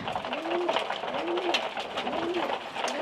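Adult male racing pigeons coo inside a loft after a training flight, three soft rolling coos repeating at a steady rhythm, close and alone against faint rustling.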